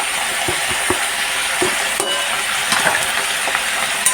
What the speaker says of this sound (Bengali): সব দিয়ে আমি একটু নেড়ে দেবো